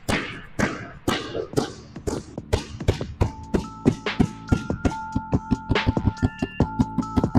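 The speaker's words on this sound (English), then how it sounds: "We'll go with 2-ball pounding." Two basketballs pounded hard on a court in a 2-ball dribbling drill, a fast steady run of sharp thuds that speeds up into a tight rhythm, close and loud, with faint squeaks and a bit of background noise.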